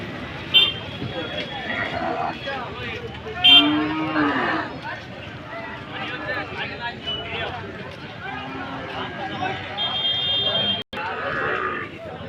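Cows moo now and then amid a busy outdoor crowd at a cattle market, with steady chatter, a passing vehicle horn and general market bustle throughout.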